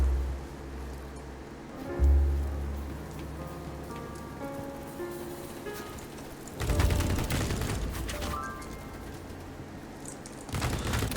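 Ultimax 100 machine gun in the video game BattleBit, rapid sustained automatic bursts, loud and close, one long burst in the middle and another near the end, over steady game background noise.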